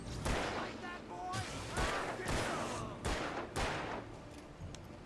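Video game gunfire rings out in sharp, loud shots, roughly six or seven spaced bursts with ringing tails, and a voice talks faintly underneath.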